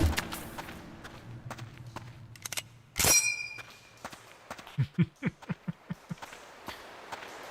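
A metallic ping rings out once from the Revolver Garand in the GZDoom-based game MOHRTA, a bright sharp clang amid gunfire and scattered footstep-like thumps, followed by a string of rapid low thuds.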